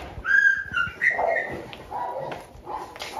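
Stray dogs at feeding time in a mountain shelter caring for over 250 dogs in bad weather: close whimpers, whiny yips and a few short barks overlap in quick, uneven bursts.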